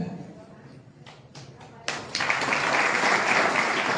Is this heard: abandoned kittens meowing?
no